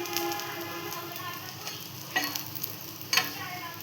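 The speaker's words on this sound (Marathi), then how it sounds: "छोटे छोटे सोडायचे तेलात आणि तळून काढायचे." Small vada fritters made from dried fish batter fry in hot oil, giving a steady close sizzle with a few louder bursts of crackle partway through.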